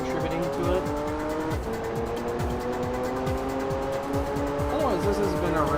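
A race car in the Gran Turismo 3 video game races in the Polyphony Digital Cup, its engine revving with rising and falling gear pitches and repeated tire squeals through corners, while someone talks over it.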